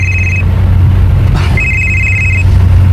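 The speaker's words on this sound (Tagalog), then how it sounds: "Nanawag man si Sabrina?" A telephone rings close by in two electronic bursts separated by a short gap, over a low, steady hum.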